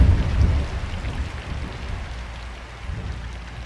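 Steady rain falls on a gray, blustery day at a mountain farm, a soft continuous patter with low rumbling beneath, heaviest at the start and then settling into an even wash.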